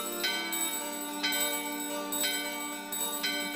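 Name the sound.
door bell ringing in video game Final Fantasy IX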